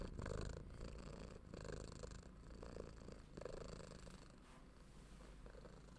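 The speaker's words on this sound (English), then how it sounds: "Can you hear his purring that loud?" A pet cat purrs close to a podcast microphone, a soft rhythmic rumbling in repeated breath-paced cycles, steady and low with no talking over it.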